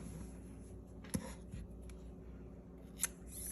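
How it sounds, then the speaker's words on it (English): Scissors snipping yarn during a crochet granny square join, two quiet short snips a couple of seconds apart in a hushed room. "let me grab some scissors and snip my yarn"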